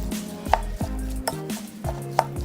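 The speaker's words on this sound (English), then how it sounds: "And now we're going to stir everything well together." Jerusalem salad ingredients with lemon juice and olive oil are mixed in a bowl, heard as a few close, sharp clacks and scrapes of a utensil against the bowl in an uneven rhythm, with no speech.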